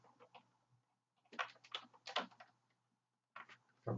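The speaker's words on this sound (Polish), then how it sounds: "pewnie słyszycie, jak walę w klawiaturę i to mnie trochę denerwuje." Keys clatter on a computer keyboard in quick bursts separated by brief pauses, close and fairly quiet.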